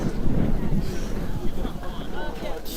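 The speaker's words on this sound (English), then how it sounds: "Huge gust of wind." A strong gust of wind buffets the microphone outdoors at a pickleball doubles tournament, a loud rumbling roar that rises and falls throughout, with faint voices and court sounds underneath.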